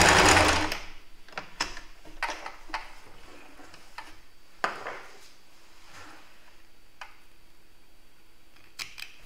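Sewing machine stitching up to a marked line while making a toy for small children, starting with a loud short burst of stitching, then sparse mechanical clicks and ticks as it slows and stops, close by.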